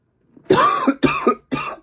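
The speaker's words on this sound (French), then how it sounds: "maintenant je tousse" Three harsh, close coughs in quick succession, each a short burst with a rasping throat-clearing quality.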